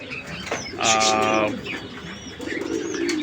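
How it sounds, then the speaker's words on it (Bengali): Pakistani Jaldar pigeons coo close by in a loft, giving one clear throaty burst and softer calls, with faint chirps and a little background talk. "এটা পাকিস্তানি জালদার কবুতর ওরাও ডিপ পারছে"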